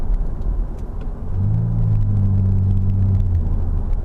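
A BMW E60 5 Series drives straight ahead, heard from inside the cabin as a steady low engine rumble and road noise that swells slightly and then holds even.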